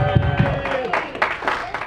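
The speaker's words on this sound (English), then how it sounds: "Big round of applause" Audience applause for a member at a Rotary Club of Pismo Beach meeting, a steady patter of claps from a roomful of people with voices mixed in, moderately loud and close.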